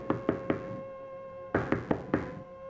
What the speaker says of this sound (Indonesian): Tiba-tiba terdengar lagi suara ketokan pintu dan sebuah suara